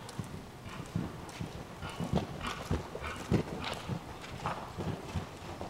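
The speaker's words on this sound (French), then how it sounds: "Entre E et K, transition au trot." Horse trotting in a riding arena during a dressage transition to trot, hooves clip-clopping in a steady, even rhythm at moderate distance over a soft, noisy background.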